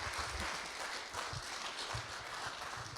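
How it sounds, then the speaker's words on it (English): A crowd at a technical talk on satellite reception claps in a dense, steady wash of applause that holds evenly for several seconds at moderate loudness. "I say applause for these two guys."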